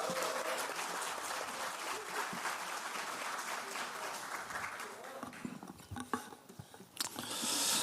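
Audience applause at a political party workshop greeting the party leader, loud and dense at first, thinning into scattered claps with some voices before swelling again at the end.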